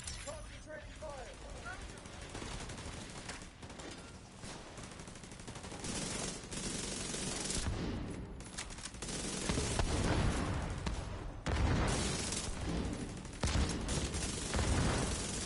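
Sustained automatic gunfire in the video game The Division 2 rattles through long, loud bursts that run almost without pause, with clattering mechanical sounds mixed in.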